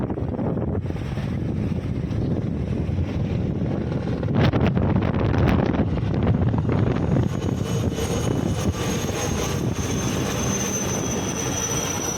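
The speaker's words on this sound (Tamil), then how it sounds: "இந்த ஹெலிகாப்டர் இங்கே தான் சுற்றிக்கிட்டு இருக்குது" A helicopter circles overhead at Dhanushkodi, producing a loud, continuous rotor and engine roar mixed with heavy wind buffeting on the microphone for the whole stretch.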